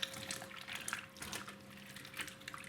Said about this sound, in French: nous allons remplir la marmite d'eau